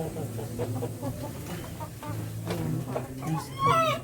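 Backyard hens cluck near a nesting box, their short calls repeating in uneven bursts at close range, with a louder squawk toward the end and a voice speaking in between.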